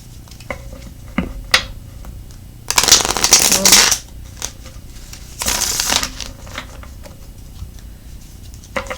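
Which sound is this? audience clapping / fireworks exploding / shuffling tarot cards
shuffling tarot cards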